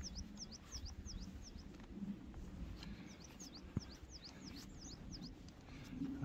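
Birds chirp and call in short repeated bursts at a shorebird birdwatching hotspot, faint and somewhat distant over a low steady outdoor background.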